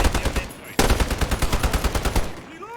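Rapid AN-94 gunfire in Modern Warfare, loud close bursts of evenly spaced shots that run almost continuously after a brief break, trailing off near the end.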